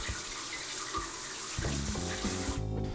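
Water runs steadily through an electric shower being refilled after a heating-element repair, a continuous close hiss like a tap with a faint tonal hum entering partway through.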